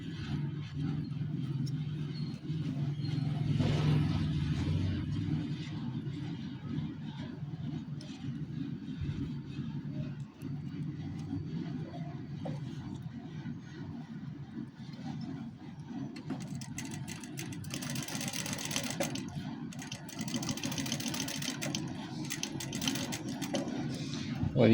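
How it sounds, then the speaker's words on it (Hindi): A sewing machine stitching a seam on a gents' kameez hums steadily and continuously at moderate loudness, with brief bursts of faster, higher-pitched stitching near the end. "अभी दूसरी साइड पे भी हम सिलाई लगाते हैं।"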